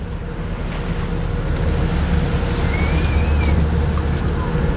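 A North Carolina ferry boat crossing the Atlantic Ocean, a steady engine drone and rushing water and wind noise on deck, continuous and loud throughout.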